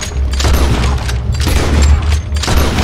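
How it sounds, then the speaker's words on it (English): Rapid gunfire in Red Dead Redemption 2, a dense fusillade of shots and booms packed close together across the whole stretch, loud and continuous with no talk over it. "That guy's really getting shot."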